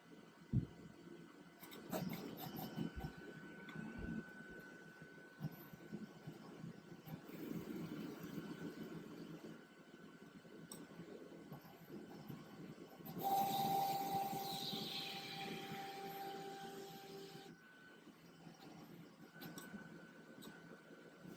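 A cutting plotter reads registration marks and then cuts a printed T-shirt image: a steady mechanical whine with tonal hum and short clicks, and a brighter, hissing motor run in the middle before it settles again.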